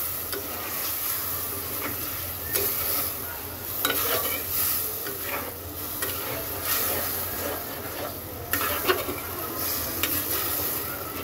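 Pabda fish curry with potato and eggplant being stirred in a pan, a steady hiss of sizzling oil with scattered scraping clicks from the spoon, close and continuous.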